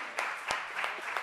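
A few scattered hand claps from a small seminar audience, about four sharp isolated claps spread over a second, close and fairly quiet, with no steady ovation.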